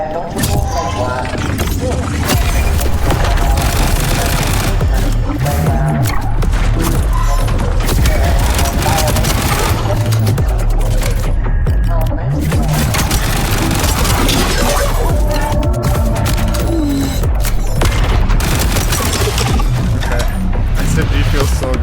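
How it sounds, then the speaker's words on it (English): Rapid SMG fire in the roguelite shooter Void Breaker, dense fast bursts over busy game noise, loud and continuous for the whole stretch with talking mixed in. "SMG feels so good. It's so fucking fast."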